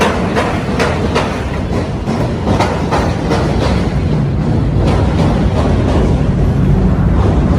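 A train rumbles past close by in Chicago, heard from a ferry on the river, with a steady rhythmic clatter of wheels over rail joints, loud and continuous throughout.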